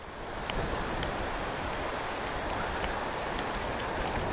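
Strong, steady wind buffets the microphone on a fishing dock throughout, a loud continuous roar with rumbling gusts and no voices.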